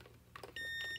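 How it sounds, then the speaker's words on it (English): A Myolift Mini microcurrent facial device powers on with a single short, clear electronic beep in a quiet room, after a couple of faint handling taps. "I'm gonna turn on my Myolift mini device."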